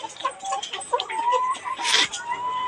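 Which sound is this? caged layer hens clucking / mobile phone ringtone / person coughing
caged layer hens clucking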